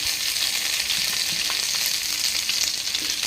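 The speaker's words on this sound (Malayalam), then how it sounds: "നന്നായിട്ടൊന്ന് എണ്ണയിൽ കിടന്നേ ഒന്ന് മൂത്ത് വരട്ടെ" Kayyonni leaves fry in oil being cooked down for a homemade hair oil, a continuous close, even sizzle with faint crackles and no voices.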